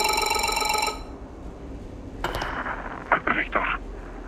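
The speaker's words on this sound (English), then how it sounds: "I hear a phone call ringing and answer it." A telephone rings in the horror video game MOLE, a bright repeating electronic ring that cuts off after a second, followed by clinks and short sounds.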